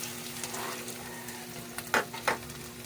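Ginger and garlic sauté in a pan for sarciado tilapia, a soft steady sizzle under light stirring with a couple of louder scrapes near the end, no voices.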